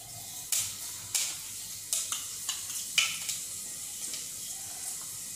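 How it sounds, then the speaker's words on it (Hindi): Fenugreek seeds hitting hot oil in a pan for lauki sabzi, a faint soft sizzle with several sharp crackling bursts and light stirring clatter, scattered irregularly. "तो यहाँ पर थोड़े से मैं मेथी दाने डाल रही हूँ"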